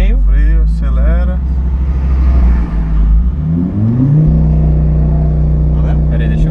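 A Nissan 350Z drift car's engine revs loudly, drops under braking, then climbs again as it accelerates, close up inside the car with people talking over it.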